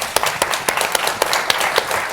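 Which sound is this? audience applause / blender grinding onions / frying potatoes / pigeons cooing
audience applause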